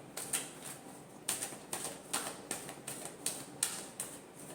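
Tarot cards are shuffled by hand in a last shuffle before a reading, giving a run of quick, crisp riffling snaps at a steady rhythm, about eight close, quiet bursts with no talking.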